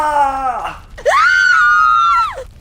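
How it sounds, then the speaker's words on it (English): Guards shove into a fire scream in terror: a loud, strained voice rises and falls, breaks off briefly, then returns in one long sustained scream before trailing away, with no other talk. "He pushes the 2 closest guards into the fire, who scream with terror into the flames."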